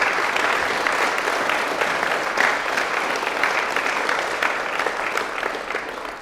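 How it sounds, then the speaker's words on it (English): Audience applause at a tree badge launch event at Kew's botanic garden, a full, loud and steady wash of many hands clapping that carries on evenly throughout and fades slightly at the end. "give a round of applause for Christopher"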